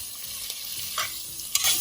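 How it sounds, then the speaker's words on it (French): Beans fry with spices alongside grilled onions, giving a steady bright sizzle with a few faint stirring scrapes, close and continuous, with no speech. "Je vais donc griller l'haricot. Je vais rajouter dans les oignons grillés."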